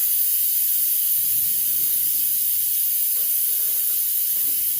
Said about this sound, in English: always remember to manually release the steam because this is essentially a pressure cooker